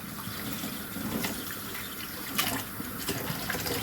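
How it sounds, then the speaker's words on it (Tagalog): Tap water runs steadily into a sink while dishes are washed, a continuous close splashing hiss with occasional clinks and louder spurts. "Ayan, magpupukas ako ng pinggan."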